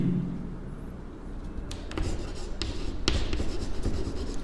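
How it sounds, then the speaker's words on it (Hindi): Pen or marker writing by hand on a surface while solving a CBSE Class 10 surface area and volume math problem, steady scratchy strokes close by and fairly quiet, with brief pauses between strokes. "तो मैं लिखता हूँ यहाँ पे"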